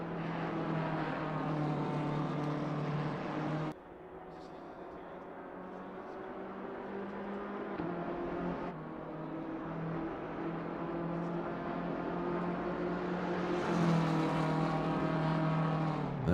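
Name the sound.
BMW race car engine on straight, racing video game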